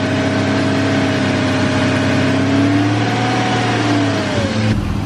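A BMW E34 540i V8 with failed motor mounts idles steadily while warming up to temperature, raised in the air. The engine note is loud and close, with a constant hum that dips slightly near the end.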